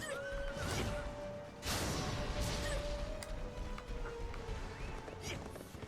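A horse in the video game Berserk and the Band of the Hawk neighs and gallops amid battle noise, with a whinny early on and continuous rough hoof and combat clatter throughout.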